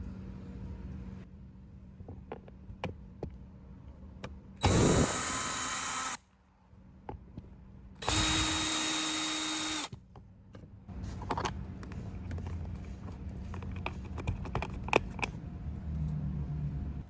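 A power tool backs out 7mm bolts from a GMC Yukon door panel in two separate whirring bursts of about two seconds each, close by, with light clicks and handling noises between and after them.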